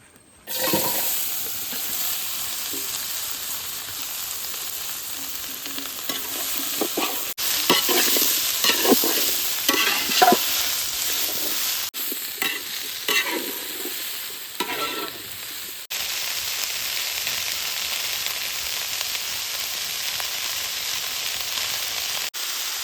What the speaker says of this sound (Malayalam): നമ്മുടെ ആ നെയ്യിലോട്ട് തന്നെ നമ്മുടെ സവാള ഇട്ടുന്നത് നമുക്ക് വറുത്തെടുക്കാം